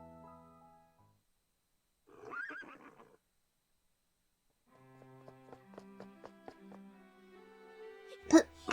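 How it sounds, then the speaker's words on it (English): Horse neighing in a PS Vita visual novel, a short whinny followed by a longer quavering neigh with breathy snorts, fairly quiet and heard alone without talk. "Why is Princess coming back on Ghislain's horse?"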